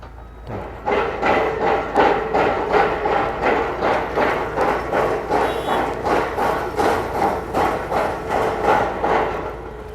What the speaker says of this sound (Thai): มีการตอกเสาเข็ม